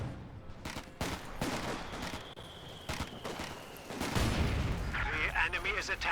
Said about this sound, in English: Mortar is right now shooting another spot